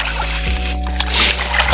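Water gushes and tumbles out at a farm water line, a steady broadband rush over a low, even motor hum, close and fairly loud throughout.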